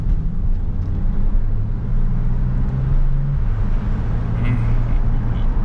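A car engine revs out hard on the road, a loud, close drone climbing in pitch as the revs build, with road noise and a little speech mixed in.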